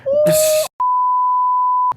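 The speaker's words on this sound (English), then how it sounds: "That was the Alberta emergency alert." The Alberta emergency alert tone sounds as a loud, steady electronic beep lasting over a second, preceded by a brief noisy burst and a lower tone.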